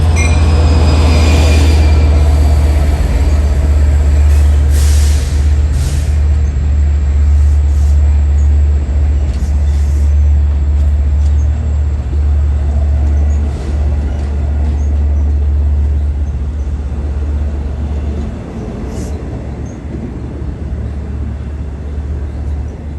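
A Long Island Rail Road train rolls past close by with a steady low rumble and clattering wheels, plus occasional sharp metallic squeals, fading slightly near the end.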